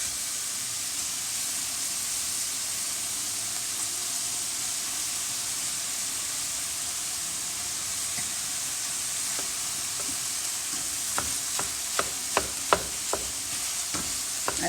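Ground beef, about 1.5 pounds, frying in a pan. A steady sizzle runs throughout, and near the end it is broken by a few sharp taps and scrapes from a meat masher or utensil against the pan.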